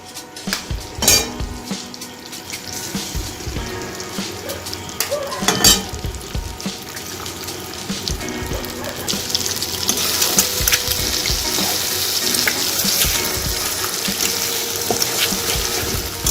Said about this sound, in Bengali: দেখুন একদম ডিমটা দিয়ে এবার আমি ভালো করে মশলার সঙ্গে ভালো করে ঘেটে একদম সেই মিশিয়ে নিচ্ছি